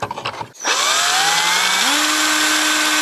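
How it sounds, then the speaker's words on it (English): A power drill bores a hole for a kayak downrigger mount, starting after a brief pause with a loud steady whine that drops in pitch partway through as the bit bites, running alone for about two and a half seconds. "I'm going to go ahead and drill a hole using the drill bit up underneath that hole here"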